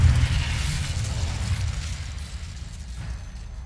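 Spell explosion from Confringo in the video game Hogwarts Legacy, a loud booming blast at the start that rumbles and slowly fades over a few seconds.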